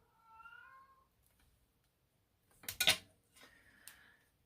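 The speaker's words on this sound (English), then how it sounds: "My cat, meow, meow, meow, all day." A house cat gives a clear drawn-out meow, then after a pause a louder burst of sharp, raspy calls and a shorter cry, close to the microphone with no talking.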